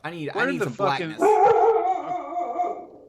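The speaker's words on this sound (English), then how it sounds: "Mickey, you are the best doggo, but you have to stop barking." Mickey, a pet dog, lets out a drawn-out bark that trails into a howl-like whine, close to the microphone, following a person's brief spoken words.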